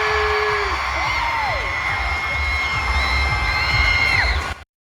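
At a concert in Orlando, the arena crowd cheers and whoops for trailers of JYP groups, a dense, loud wash of screaming voices with high shrieks rising and falling throughout.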